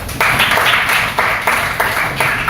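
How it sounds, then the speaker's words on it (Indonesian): Classroom clapping from a group of students, a dense patter of many hands that swells in rhythmic bursts roughly every half second, fairly close and steady, with no talk over it. "Tepuk tangan dong."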